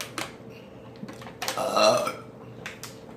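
A person lets out a short, loud burp mid-stretch amid light clicks and faint room noise, heard close up during a burping challenge.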